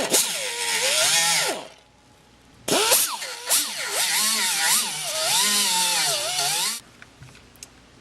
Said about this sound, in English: we're just going to grind them down, smooth them out,